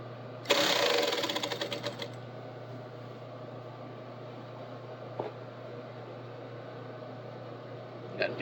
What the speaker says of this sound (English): I'll make it past that seam with the hem, and then I'll bring it back to start the pleating.